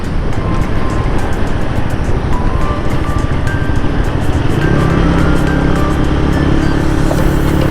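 A bus rolls along a road in Korat, Thailand, with a steady, loud engine drone and tire rumble filling the cabin throughout, and no break in the noise.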